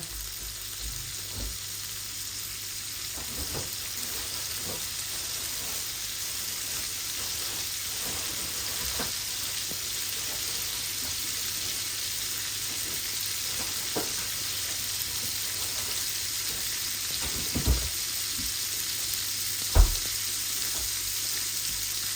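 Fish frying in a pan gives a steady, bright sizzle throughout, with occasional soft clicks and knocks from the pan nearby.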